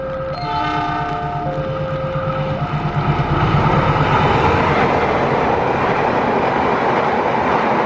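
The Lodaya passenger train, running from Bandung to Solo Balapan, sounds sustained multi-tone horn blasts and then roars past close by with a loud, steady rumble of wheels on the rails.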